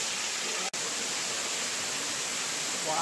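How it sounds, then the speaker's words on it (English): A small waterfall in a state park pours steadily as continuous broadband rushing water, close and unbroken for the whole stretch. "Oh, I see, there's a little waterfall here."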